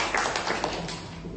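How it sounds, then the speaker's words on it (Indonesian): An audience at an Indonesian election commission year-end event claps briefly for a district official, a short burst of close, crisp hand claps with some distinct taps. "kita beri tepuk tangan kepada Pak Subriyadi"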